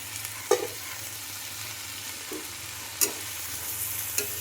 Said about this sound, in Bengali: সবজিগুলো মশলার সঙ্গে ভাজা ভাজা হয়ে এসেছে।